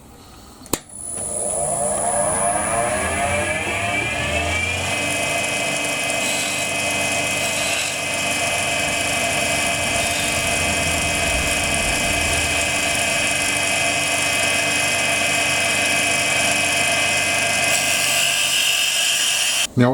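A wood lathe spins a pen blank, starting up into a steady high whirring drone that holds for the whole stretch, with faint tool contact sounds and occasional speech over the motor.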